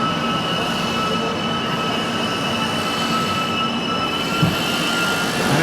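A Duronto Express stands at Kasaragod station, its air-conditioned coach giving off a steady, even hum and hiss, with a faint tonal whine and no voices.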